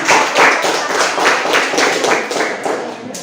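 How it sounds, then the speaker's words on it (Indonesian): A classroom audience of students claps together after a physics group presentation, a dense, loud burst of overlapping hand claps that carries on steadily and thins slightly toward the end. "Berikan tepuk tangan."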